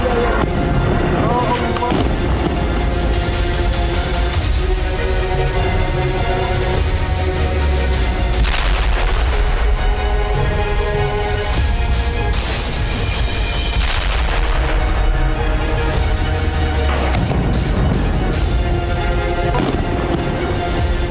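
Heavy explosions from Israeli IDF strikes on Hezbollah strongholds thunder repeatedly, loud deep booms and blasts following one another in close succession over a constant rumbling roar.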